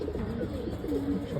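A pigeon coos softly in low, throaty murmurs close by, with a continuous gentle rumble and no one talking.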